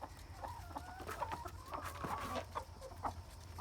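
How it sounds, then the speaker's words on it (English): A broody hen clucks in low, repeated murmuring notes, a steady stream of short grumbling calls close by with faint background hum. "the way she clucks"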